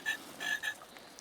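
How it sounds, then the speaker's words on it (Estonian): A small frog croaks in short bright bursts, three quick chirpy calls close by within about a second, fairly clear over a quiet background. "konn krooksub"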